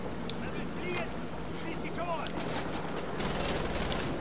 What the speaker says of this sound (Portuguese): Deixa eu pegar a metralhadora aqui.